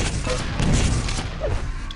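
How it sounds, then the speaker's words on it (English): A rocket blast in Quake CPMA gives a short, muffled boom with rumbling low thuds amid game action, fairly close and moderately loud. "Unfortunate little bomb from the rocket there"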